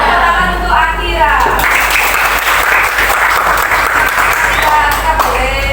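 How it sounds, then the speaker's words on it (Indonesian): Children in a classroom applaud for Akira with loud, sustained clapping close by for several seconds, and voices can be heard shouting and talking over it. "Tepuk tangan untuk Akira."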